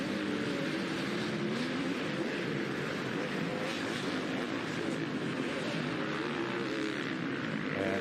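Off-road motorcycle engines scream at full throttle during a live Southwick GP motocross race, a dense, steady, loud blare with wavering pitch that runs without a break, with faint commentary mixed underneath.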